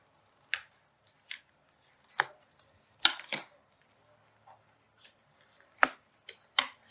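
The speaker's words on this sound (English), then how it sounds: "we're gonna peel them off the lid" Dried homemade craft sun catchers being peeled off a lid, a quiet sequence of sharp little crackling snaps and pops, spaced irregularly with near silence between them.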